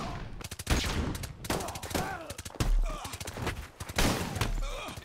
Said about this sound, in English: Stop your shooting, yo.